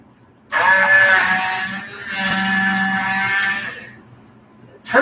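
An electric kitchen mixer with a whisk attachment blends herb oil, its motor whining loudly and steadily for about three and a half seconds, then cutting out before briefly starting up again.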